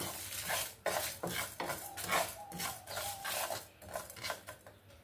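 Panch phoron spices dry-roasting in a pan over a low gas flame, with a spoon rubbing and scraping against the metal in uneven, fairly quiet strokes.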